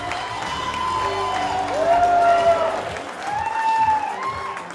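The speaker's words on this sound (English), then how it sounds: "give an enormous round of applause" A comedy club audience applauds and cheers a stand-up comedian taking the stage, a steady wash of clapping and whoops mixed with tonal walk-on music throughout.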